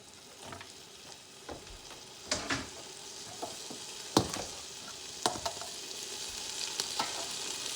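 Rice goes into a hot pan for vegetable fried rice and is stirred with a spatula. Scattered scrapes and soft clatters sound over a steady sizzle, with a few sharper knocks toward the middle.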